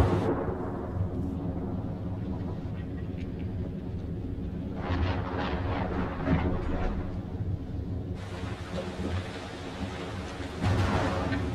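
Thunder from a storm at sea in the video game Man of Medan rolls loud and continuous, with deep rumbling swells that rise and fall.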